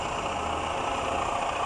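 A 1998 Toyota Camry engine idles smoothly and steadily, a close, even mechanical hum with no voices over it.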